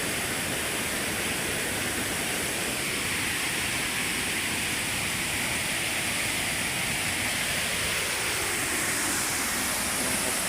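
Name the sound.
rushing floodwater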